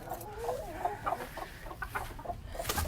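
Agitated Silkie chickens, including a lone black rooster, cluck and fuss in an indoor coop, a busy layer of short, overlapping clucks and squawks mixed with rustling and handling noise.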